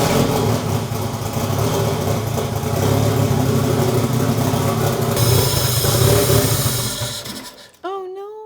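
An LS V8 swapped into a Honda Civic runs with a loud, rough, rumbling idle that surges slightly, then cuts out abruptly near the end, leaving a brief high whine.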